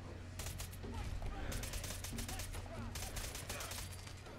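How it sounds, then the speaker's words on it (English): Rapid gunfire bursts from a firefight in the video game Fallout 4, in a Nuka-World setting, dense and continuous across the clip with repeated sharp volleys, under a persistent low rumble. "I wonder if it's the people with guns shooting at us."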